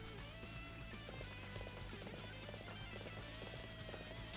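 Horse hooves gallop in the video game Dynasty Warriors 7, a faint, rapid rhythmic clip-clop repeating steadily over a low game soundscape with no talk.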